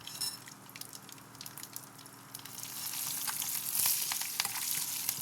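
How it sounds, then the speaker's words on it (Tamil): Garlic, ginger and green chilies sizzle in hot oil for a cracked-wheat dish, a hissing, crackling fry that swells louder partway through, with a few sharp pops and spatters and no talking. "இப்போ பூண்டு, இஞ்சி, பச்சை மிளகாயும் போட்டுக்கலாம்."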